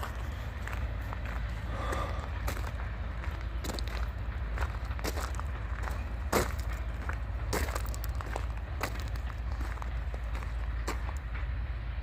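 A northbound coal freight train idles on a mainline, a low steady rumble holding alone with occasional sharp clanks and crackles over it.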